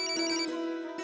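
An incoming-call ringtone plays loud and close in a bright repeating tonal pattern, with no talking over it.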